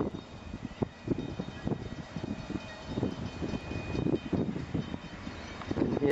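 A train engine stuck on a hill labors with a deep, uneven rumble and chugging pulses, heard from a moderate distance under some wind noise.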